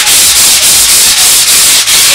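Sandpaper rubbing by hand over a Mazda car body in a muffler shop, a steady loud scraping in repeated strokes with brief pauses roughly every third of a second, no voices.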